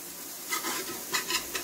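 Chicken biryani ingredients stirred in a non-stick pan, a few short scraping stirs with soft sizzling underneath, close and fairly quiet.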